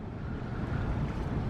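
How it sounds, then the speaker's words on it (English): Steady wind gusts across a sailboat on a rolling sea, a continuous broadband rush and buffeting with no voices, moderately loud and close throughout. "it's a windy, rolly day to be doing this"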